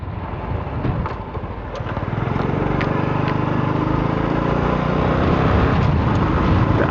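Motorcycle ridden through strong tropical-storm wind, a steady engine drone overlaid by loud, rushing wind buffeting that builds and stays continuous.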